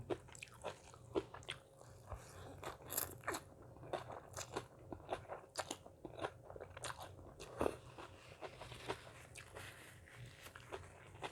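Someone eats khanom jeen noodles in curry with chicken feet, biting and chewing with many sharp, close crunches and crackles in an irregular rhythm, alone without talk.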